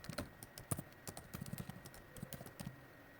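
Keys clatter on a computer keyboard while code is written, a quiet, uneven run of close clicks with short pauses and a faint steady hum beneath.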